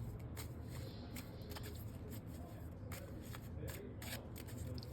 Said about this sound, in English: So we shuffle the cards.